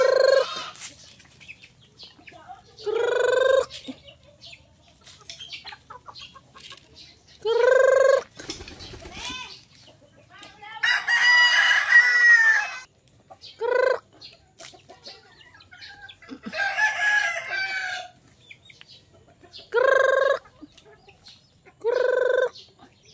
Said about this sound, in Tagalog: Ayan, pakain tayo ng breakfast sa ating alagang manok.